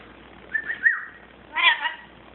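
A pet lory parrot gives two short, clear whistled chirps close up in a quiet room, the second fuller and a little longer than the first.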